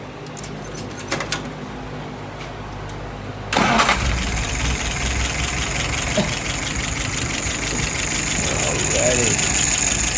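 A car engine cranks and catches after a few seconds of quiet, then settles into a steady, close idle that runs on; someone speaks briefly before it starts.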